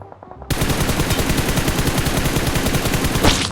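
Rapid automatic gunfire from the mobile game PUBG Mobile, played on an iPhone 14 Pro Max, bursts in after a brief lead-in and rattles on continuously at close, loud range to the end.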